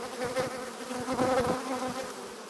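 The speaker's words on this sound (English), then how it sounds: "So I'm going to take this box before I get too many bees there." Honey bees buzz steadily around an open beehive during hive setup for a Snelgrove board, a close, continuous droning hum with shifting pitch as insects fly past.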